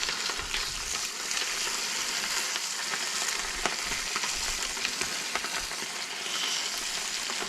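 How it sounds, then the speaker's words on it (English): Mackerel fillets sizzling in oil in a hot pan, a steady close, bright crackling fry with small pops throughout, no talking. "Mackerel's going to go straight in."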